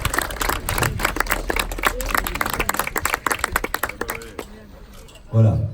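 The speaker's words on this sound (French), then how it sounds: "Je crois qu'on peut les applaudir aussi" A crowd at the unveiling ceremony for a monument to Anne of Kyiv in Arlon, Belgium, claps in a lively round of applause while someone speaks over it. The clapping fades near the end.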